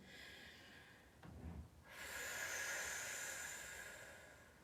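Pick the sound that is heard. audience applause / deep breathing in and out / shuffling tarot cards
deep breathing in and out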